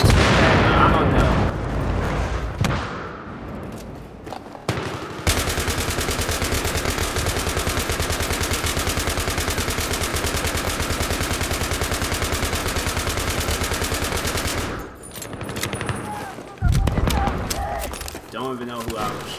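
Battlefield 3 gunfire: a sustained, rapid automatic burst lasting about ten seconds, loud and close, bracketed by shorter shots and blasts, with players talking over it.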